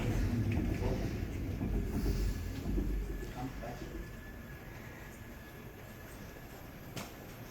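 Underground train rumbling past at Jagalchi subway station in Busan, a loud low roar that is strongest early and gradually fades over several seconds, leaving a steady background hum.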